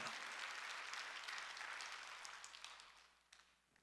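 Congregational applause fills a church during a Korean Wednesday worship service, a dense wash of many hands that thins out and tapers to a few scattered claps, heard at a low level.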